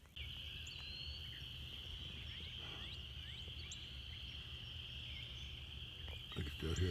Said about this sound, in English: I can still hear the frogs.